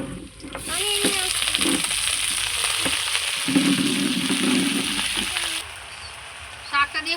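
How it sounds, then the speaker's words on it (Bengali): Washed jute leaves hit hot oil with garlic and green chillies in a pan and fry with a loud, continuous sizzle. Scraping stirs and clinks of the utensil come through, and the hiss eases near the end. "শাকটা দিয়ে খুব সুন্দর করে নাড়াচাড়া করে নিয়েছি"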